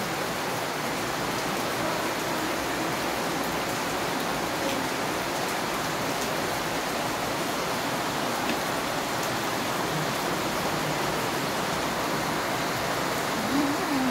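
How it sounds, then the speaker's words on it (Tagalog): Heavy afternoon rain pours in a steady, dense wash from start to finish, loud and unbroken with no talking. "Lakas po ng ulan."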